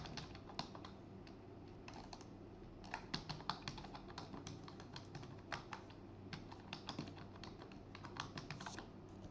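A password being typed on a computer keyboard while setting up a user account, with quiet, irregular bursts of key clicks and taps spread across the whole stretch, no voices.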